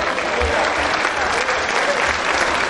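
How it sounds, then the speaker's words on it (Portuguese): A church congregation applauding during a sermon, dense continuous clapping that stays loud and even throughout, with a crowd murmur underneath. "Pode aplaudir e glorificar o nome do Senhor."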